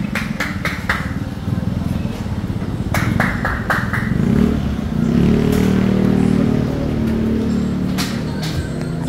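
Kawasaki Ninja 400 motorcycle engine revved hard in a repair shop, with sharp bursts and rising throttle blips against clattering shop noise, loud and close.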